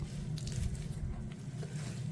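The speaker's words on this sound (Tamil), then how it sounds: "இதில் உள்ள ஜூஸை நம்ம எடுத்துடணும்" Grated carrot is wrung inside a clean cloth to press out its juice, giving soft, steady wet squishing and faint dripping at close range over a low background hum.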